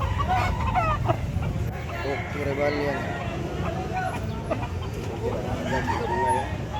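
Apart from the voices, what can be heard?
native chickens, roosters at market expo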